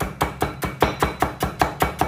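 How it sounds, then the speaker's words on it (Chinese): A knife chops vegetables on a cutting board in a steady, even rhythm of about ten crisp, close strikes, with no voices. "你看我手这个是慢慢向后退，刀慢慢向前进"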